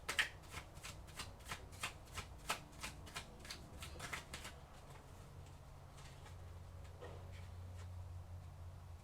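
Tarot cards being shuffled during a reading: a quick run of crisp riffling flutters for about four seconds, then quieter shuffling with a low background hum, no voices.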